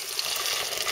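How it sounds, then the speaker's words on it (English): Boiling water is poured into a pan of beans, giving a brief, steady rushing hiss of liquid at moderate level, heard on its own without any voices. "Alright, I'm going to replace the water"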